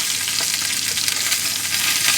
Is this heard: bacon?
yes